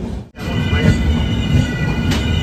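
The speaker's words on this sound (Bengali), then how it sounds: "মালগাড়িতে কয়লা ভর্তি।" A freight train loaded with coal passes close by on a large curve near Barakar, giving a loud, steady rolling roar with metallic wheel squeal and a brief gap near the start.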